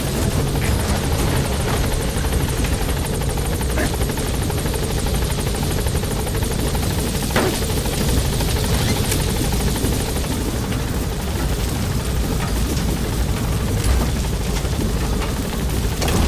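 An in-game helicopter in Metal Gear Solid V: The Phantom Pain drones loudly and continuously with a dense rotor roar as it hovers near a landing zone.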